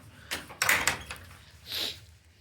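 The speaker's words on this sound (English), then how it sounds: "Close my door." A household door is pulled shut with a couple of close knocks and a firm thud, followed by a softer brushing sound as it settles.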